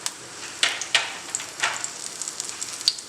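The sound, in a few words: spices crackling and sizzling in hot oil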